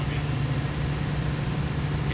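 An armored vehicle engine in the video game ArmA 2 drones loud and steady with a constant low hum and no break, close and unrelenting throughout.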